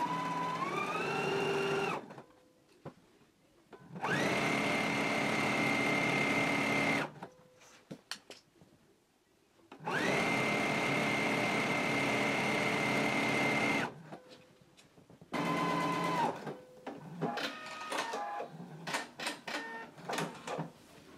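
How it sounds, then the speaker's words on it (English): Sewing machine stitching the side seams of a dress at a 5/8 inch seam allowance, long steady whirring runs with rising and falling motor pitch, broken by short pauses and uneven stop-start bursts near the end. "we can go to the machine and sew them in a 5/8 inch seam allowance"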